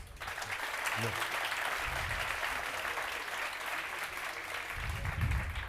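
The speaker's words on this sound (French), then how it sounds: "On les applaudit." Applause from an audience at a simulation competition final, sustained dense clapping that holds loud and steady throughout, with a few voices faintly underneath.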